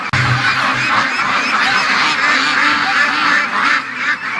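Ducks near a lakeside gate give loud, close, overlapping honking quacks that continue without a break, with no talk.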